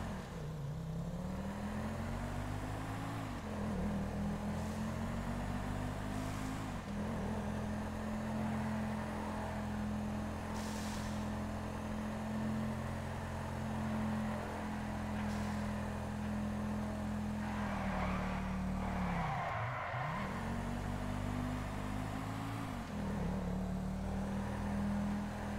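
Bravado Buffalo sports car with a muscle-car look driving in GTA, engine droning loudly with repeated revs rising in pitch through the gears and two sharp drops where the throttle lifts.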